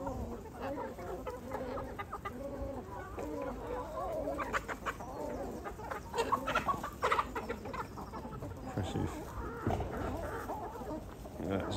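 Chickens cluck busily around a farmyard, with a rooster among the flock, the calls near and continuous in overlapping bursts over soft ambient noise.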